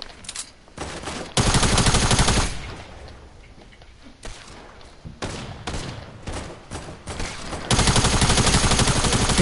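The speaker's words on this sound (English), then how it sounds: "Oh, people shooting at me, bro." Video game gunfire: dense bursts of rapid shots and automatic fire, loud and close, in several blocks separated by quieter stretches, with no talk over it.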